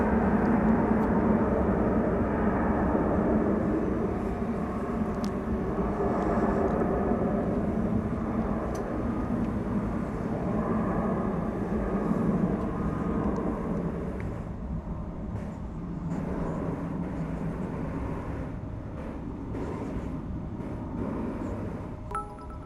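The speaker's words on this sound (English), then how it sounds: "American Flight 2375 and Airbus A321." An American Airlines Airbus A321 jet at DFW Airport rumbles steadily for the whole stretch, a broad engine roar at constant distance that eases slightly toward the end.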